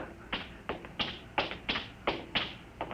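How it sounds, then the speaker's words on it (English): Soft footsteps tap along at a steady walking pace, close by and getting gradually louder over quiet background noise. "I hear somebody coming."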